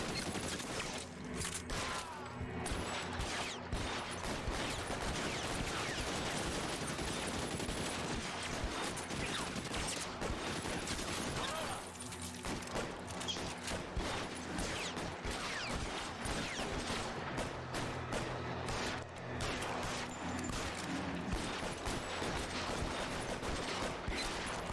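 Sustained gunfire from the L.A. Noire video game: dense, continuous volleys of shots and mechanical clatter form a loud wall of combat noise with little let-up.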